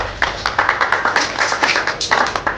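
A crowd at a motorcycle showroom launch of the Hero Glamour X125 in Sherpur, Bogura claps in a steady rhythm, with sharp, evenly spaced beats of many hands sounding close and clear.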